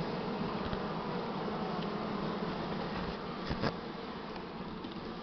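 Honey bees hum steadily around an opened hive during a spring nest expansion and mite treatment, with a dense, continuous buzzing close by and a couple of brief knocks partway through.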